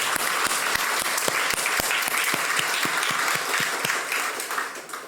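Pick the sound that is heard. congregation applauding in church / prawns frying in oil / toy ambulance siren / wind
congregation applauding in church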